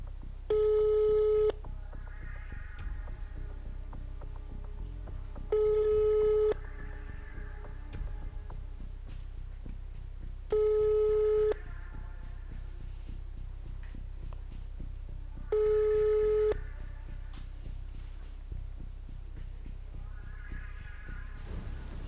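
A telephone call goes unanswered, repeating a tone in four evenly spaced bursts about five seconds apart over steady background hum, loud and clear with no talking.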